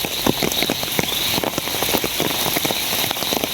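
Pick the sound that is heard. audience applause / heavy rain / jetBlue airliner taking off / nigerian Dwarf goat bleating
heavy rain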